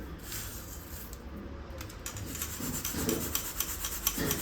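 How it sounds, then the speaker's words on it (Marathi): Roasted poha chivda shaken in a sieve in a home kitchen gives a steady dry rustle and rasp of flakes, close and continuous, growing slightly louder and more rhythmic toward the end. "तर आता हे चाळणीमध्ये थोडेसे चाळून घ्यायचे, म्हणजे धूळ वगैरे असेल ते निघून जाते"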